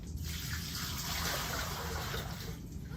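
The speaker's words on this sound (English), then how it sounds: "I'm gonna dump it in the sink" Water from a catheter drainage container poured into a sink in a care setting: a steady close gush splashing continuously for about three seconds, no talking.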